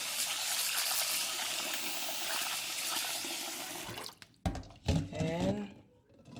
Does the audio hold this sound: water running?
yes